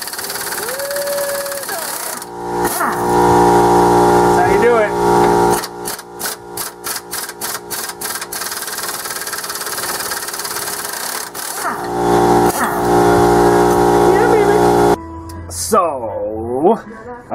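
An impact wrench hammers at rusted wheel studs in loud, rapid bursts of rattling blows, starting and stopping over a steady mechanical drone, with a voice talking nearby.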